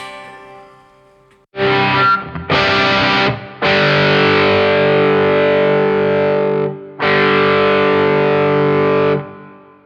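A Les Paul humbucker electric guitar played through a Red Witch Epiphanious Drive overdrive pedal rings out in loud, thick distorted chords, a few short stabs followed by long sustained strums that cut off sharply, with no talking.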